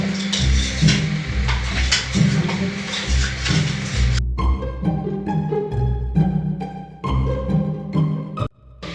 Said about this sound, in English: As the wax starts melting, drop in your crayon. And keep stirring.